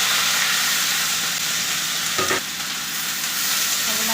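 Onion, garlic, ginger and chili frying in hot oil for chili paneer, a loud continuous close sizzle with one brief stir partway through.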